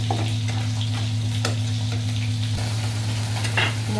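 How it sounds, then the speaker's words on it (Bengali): Spices fry in a pan for fish curry, a steady close sizzle with scraping stir strokes every second or so, continuous with no voices. "মশলাটা ভাজা হয়ে গেছে"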